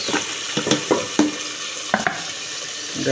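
Onions fry in a pan, giving a continuous sizzle broken by several sharp stirring scrapes and clinks of a utensil against the pan, close up with no talking.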